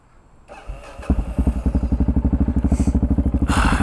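A Yamaha motorcycle engine turns over and catches, then settles into a loud, close, steady rhythmic idle with a fast even pulse, no talking.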